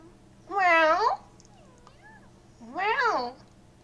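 Two drawn-out, clear meows from a cat in the video game Trails of Cold Steel, close and prominent, with a faint higher chirp between them.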